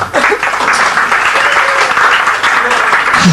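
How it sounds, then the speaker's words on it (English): Audience applause at a hypnosis show in Ibiza, a loud, dense wash of clapping filling the room continuously, with a few voices mixed in. "Give it a big round of applause, ladies and gentlemen."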